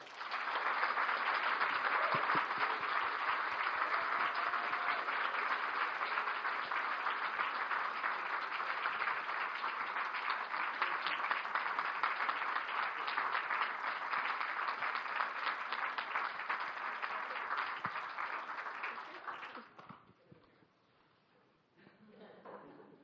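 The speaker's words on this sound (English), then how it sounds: "Please give a warm welcome and a warm round of applause for Ellen Pelche." Sustained applause from an audience at a Toastmasters speech contest, greeting the third-place winner: a dense, steady wash of clapping lasting about twenty seconds, then cutting off quickly into a quiet room.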